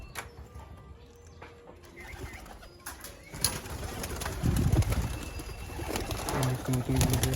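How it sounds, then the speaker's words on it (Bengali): Pigeons in a loft coo among other bird sounds, with rustling and some movement nearby growing busier toward the end; no speech. "এখন আপাতত কবুতরগুলোকে ছাড়বো।"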